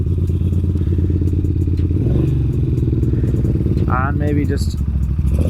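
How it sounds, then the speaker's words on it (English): A 1980 Moto Guzzi V50 II twin engine idling close by with a steady low throbbing pulse and mechanical clatter, briefly revving, while someone speaks over it. "a beautiful sound of a Moto Guzzi twin"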